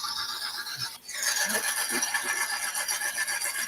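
An 1800 engine idling with an exhaust tube fitted makes a steady, fairly loud droning hum with a brief dip near the start, then an even rasping tone.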